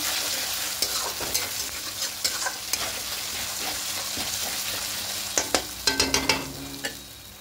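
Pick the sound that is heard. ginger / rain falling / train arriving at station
ginger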